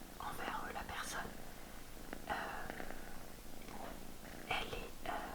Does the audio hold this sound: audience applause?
no